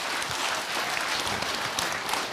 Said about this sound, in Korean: 박수. 어쨌거나 간에 박수다.